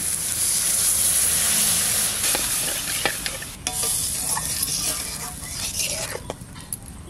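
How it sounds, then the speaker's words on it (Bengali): Spiced masala for a duck egg curry cooks in a pan, a loud continuous hiss and sizzle with intermittent stirring scrapes and clicks, and no talking. "মশলা কষানো হয়ে গেছে, এবার জল দিয়ে দেবো একটু।"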